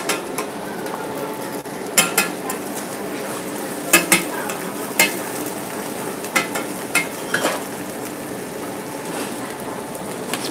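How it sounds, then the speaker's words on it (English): Oyster omelets fry on a griddle at a Taipei night market stall: a continuous sizzle broken by sharp metal clanks and scrapes of a spatula at irregular intervals. "that's another batch of oyster omelets getting cooked up here"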